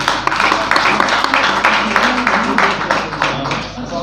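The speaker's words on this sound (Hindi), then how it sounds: "आपकी बहुत सी तालियों में" Audience applause at a book launch ceremony for a Saraiki poet in Multan, a burst of fairly close clapping from a modest crowd that thins out toward the end, with some voices underneath.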